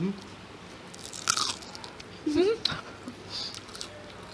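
Crisp food bitten close to the microphone at a café table, giving a couple of sharp, loud crunches followed by quieter chewing, with faint room chatter around.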